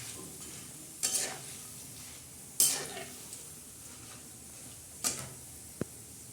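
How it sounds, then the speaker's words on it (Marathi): Kudaya fritters fry in oil with a low continuous sizzle, broken by a few louder bursts of spattering and a single sharp tick of a utensil near the end. "या कुडाया अशा तळल्या जातात"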